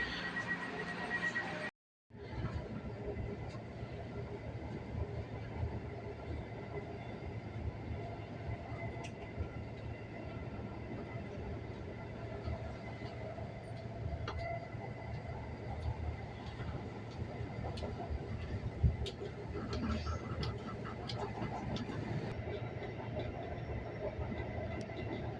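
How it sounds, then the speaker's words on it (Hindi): A passenger train rolls along on the ride from Jeddah Airport toward the Haram, a steady low rumble with faint rail clatter heard from inside the carriage, quiet and continuous after a brief dropout near the start. "ट्रेन चल पड़ी है"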